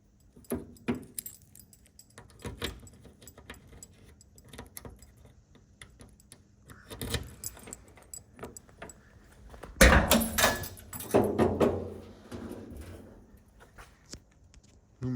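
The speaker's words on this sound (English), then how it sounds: "The key here, let's see, pop open the trunk." Keys jangle and the trunk lid of a 1966 Chevy Corvair is popped open, heard as scattered close clicks and rattles, then a louder burst of clunks and handling noise toward the end.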